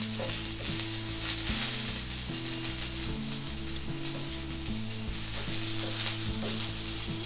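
Thin-sliced onions sauté for keerai curry, sizzling steadily in hot oil in a pan, with a constant close bright crackle over a low repeating hum and no talking.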